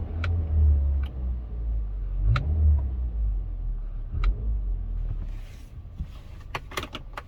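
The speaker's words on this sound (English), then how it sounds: "I'll just give it a quick rev." A 2010 Audi A3 Sport 1.4 TFSI with a seven-speed S-tronic gearbox, parked, gives a steady low engine rumble that swells briefly with a quick rev, with a few faint clicks and ticks near the end.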